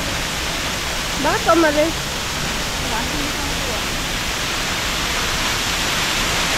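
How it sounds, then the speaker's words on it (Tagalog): A waterfall at Batu Caves, Kuala Lumpur, a constant broad hiss of falling water filling the whole scene, with a short burst of voices near the start and faint speech underneath. "Punta natin yung yung falls, waterfall."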